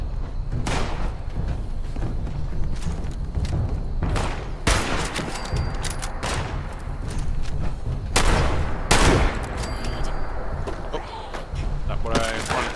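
Gunfire in the video game Fallout 76, with repeated loud, sharp shots and bursts scattered through a busy, continuous combat soundscape.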